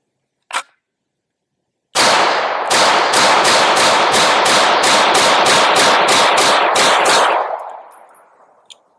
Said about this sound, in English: let's put a few rounds through it